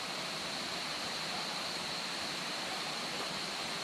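Rushing water from Marcus Waterfall in Trinidad makes a steady, dense hiss with no breaks, heard alone at moderate loudness.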